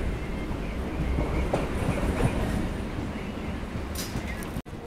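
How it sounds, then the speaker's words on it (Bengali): A Kolkata suburban local train rumbles along the tracks after leaving Patipukur station, heard from inside the coach as a loud steady roar with faint wheel clatter and a brief squeal near the end. "আমাদের ট্রেনটা এখন পাতিপুকুর স্টেশন ছেড়ে চলে যাচ্ছে"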